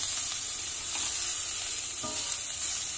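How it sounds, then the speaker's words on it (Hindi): Onions frying in a small amount of oil while being browned for a potato and sangri vegetable dish, giving a steady close sizzle with faint stirring scrapes throughout and no talking. "ये देखिए प्याज को भूनेंगे हम, हल्का ब्राउन होने तक भूनेंगे।"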